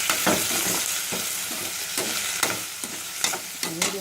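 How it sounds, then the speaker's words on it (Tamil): Tomatoes sautéing over medium flame for a mushroom curry: a constant loud sizzle close by, with a spoon scraping and tapping the pan in quick, regular strokes. "கொஞ்சம் சாஃப்ட் ஆகிற வரைக்கும் வதக்கணும்"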